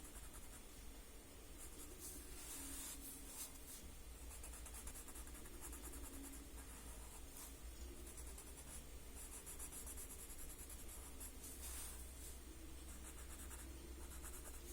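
Graphite pencil lightly shading on paper, a soft continuous scratchy rubbing with rhythmic back-and-forth strokes, close and quiet with no talking.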